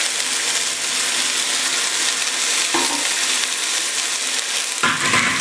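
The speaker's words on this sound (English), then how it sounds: "when the oil starts to get hot and smoke, add in the onions" Diced onions and garlic sizzle and crackle steadily in hot, smoking oil for a beef goulash, a dense close frying hiss with brief bursts of stirring near the middle and end.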